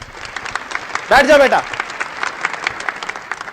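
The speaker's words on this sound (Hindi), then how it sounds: "सभी बच्चे इसके लिए जोरदार तालियां बजाएंगे।" Classroom children burst into a short round of clapping for about half a second, loud and close, between stretches of a teacher talking to the class.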